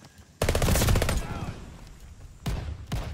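KG M40 rifle firing in the video game Vanguard/Warzone: a loud sustained burst of heavy gunfire for about a second, then a quieter lull and two shorter sharp bursts near the end.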